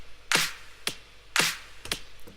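Chopped drum loop with a closed hi-hat and a snappy, crisp clap: four sharp hits spaced roughly half a second apart in an uneven pattern, dry and close with short decays and no voices.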